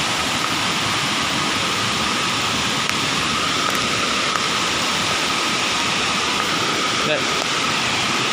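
The Berkasih waterfall roars with a loud, steady rush of falling water that never lets up, while a person speaks briefly over the constant noise.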